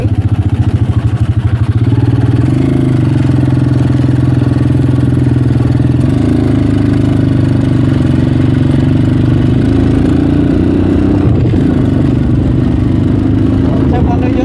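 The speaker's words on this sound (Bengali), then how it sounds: "Dirt bike, beach bike." A beach dirt bike on the sand at Cox's Bazar runs loud and close, its engine holding a steady throbbing idle with small shifts in pitch and a brief rise near the end, with no talk over it.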